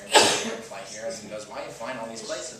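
A single sharp, loud sneeze bursts out at the start, followed at once by someone talking steadily.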